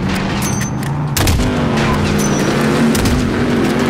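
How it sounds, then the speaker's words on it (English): A large explosion erupts during a Call of Duty: Modern Warfare match, a sudden loud boom midway that leaves a rumbling roar amid steady game noise, gunfire-like crackle and engine sounds, with no talking. "That was a really big explosion."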